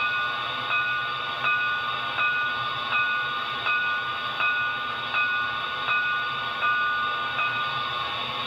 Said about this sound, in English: bell, F1,